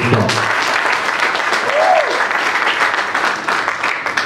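Voters at a political party assembly in Kintambo applaud an election result by acclamation, loud steady clapping from a large crowd with a brief whistle or cry rising above it midway.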